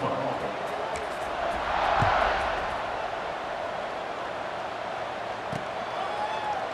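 A stadium crowd in the College Football 26 video game roars as a broad, steady wash of cheering, swelling briefly then settling into a distant ambient din after a touchdown and extra point.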